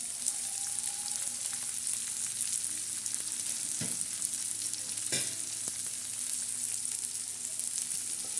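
Onion with a little salt frying in a pan until reddish, a continuous bright sizzle held at a steady level, broken by a couple of sharp stirring scrapes against the pan, with nobody speaking.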